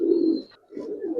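A Giribaz coloring pigeon coos close by in two short throaty phrases separated by a brief pause, with no other sound around it.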